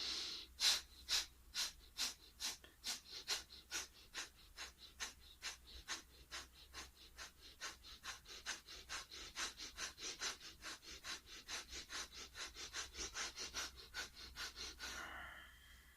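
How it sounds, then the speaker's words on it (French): Rapid, forceful nasal exhalations in bellows breathing, around thirty even puffs at roughly two per second, close and quiet, with no talk. "Expirons par le nez, vite, comme un soufflet, à partir du bas."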